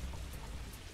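Rain weather effect from the Pokemon Battle Revolution video game, a steady hiss of falling rain that holds at an even level for the whole second with no voices.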